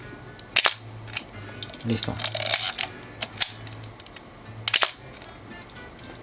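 A Rolleiflex SL26 126-film SLR camera shutter fires several times with crisp mechanical clicks and whirs, spaced irregularly, while a person briefly speaks over a low background hum.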